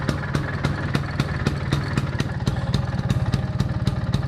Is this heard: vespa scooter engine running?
yes